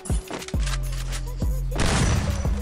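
Shotgun blasts from an M1887 in the Free Fire battle-royale game, a few sharp booming shots spaced apart over steady game noise, with talk faintly underneath.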